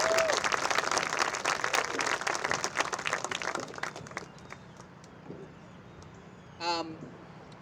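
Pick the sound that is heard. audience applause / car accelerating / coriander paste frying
audience applause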